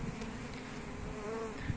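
Honey bees drone softly and continuously around a beehive fitted with pollen traps on a warm day, a faint, even hum with no voices.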